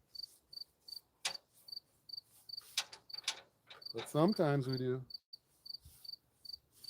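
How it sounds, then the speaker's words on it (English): Crickets indoors in a house chirp in a steady, regular rhythm of short high pulses, while a person speaks briefly in between. "we have crickets hiding in our bedroom and in the walls and who knows where, chirp, chirp, chirp"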